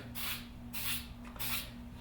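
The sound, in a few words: light spray of skin toughener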